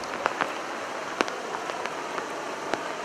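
Early rainy-season rain at the headwaters of the São Francisco River, a steady soft patter with a few sharper drop hits scattered through it, fairly quiet and continuous with no voices.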